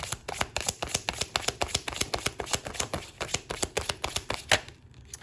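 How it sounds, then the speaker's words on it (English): Everyday Witch Tarot cards being shuffled by hand, a rapid run of crisp riffling flicks repeating in close, regular bursts, with the sound thinning out near the end. "I've got the Everyday Witch Tarot, so we're going to go ahead and give these a shuffle"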